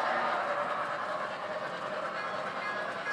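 An MTH Imperial Norfolk & Western J 611 model steam locomotive runs steadily on a home layout, giving a continuous, fairly close mechanical hum and rolling rail noise throughout with no breaks or talk.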